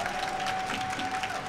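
A brief burst of audience applause at a MapleStory winter showcase, many hands clapping together in a dense, steady patter.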